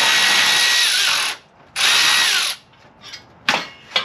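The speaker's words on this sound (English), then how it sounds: "With the electric ratchet." An electric ratchet spins bolts out underneath a 2017 VW Alltrack during a turbo and downpipe install, with two loud whirring bursts followed by softer clicks and a short final buzz.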